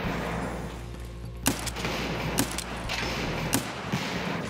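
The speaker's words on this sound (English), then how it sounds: "Mortar strike." Mortar strike explosions land in Escape from Tarkov, several sharp impacts spaced about a second apart over a steady low ambient rumble, each a brief loud crack.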